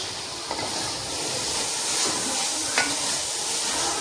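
Potato and moong dish stir-frying with ground coriander, giving a steady soft sizzle with faint scraping stirs throughout, close and without voices.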